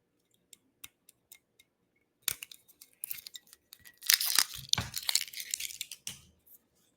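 A rum bottle sealed with a synthetic cork being worked open, giving small ticks and crinkles of the seal followed by a louder burst of scraping and a squeaky pull as the cork comes free, close up and with no talking.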